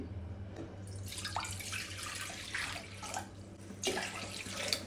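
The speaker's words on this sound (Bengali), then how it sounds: "এখন এতে দিয়ে দিব হচ্ছে পানি" Water splashes and gurgles as it is poured steadily into a pan, close by, with a few brief surges in the flow.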